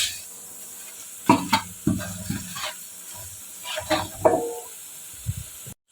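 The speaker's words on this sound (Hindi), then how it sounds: "और इसको थोड़ा सा प्याज में मिक्स करना है" Whole garam masala and onions stirred in a pot for a Pakistani beef paya, giving intermittent scraping strokes over a light, close sizzle, with no talking.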